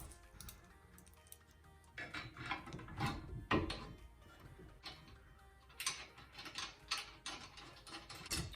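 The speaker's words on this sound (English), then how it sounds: "Using these 4 bolts right here, you're gonna have your little nylockers right here on the back, these nuts with the washers. So I'm gonna go ahead and bolt these on right now." Nuts and washers being run onto four bolts to fix a HornBlasters train horn mount in a spare tire spot, producing soft irregular metallic ticks, rattles and clicks in bursts, close and fairly quiet.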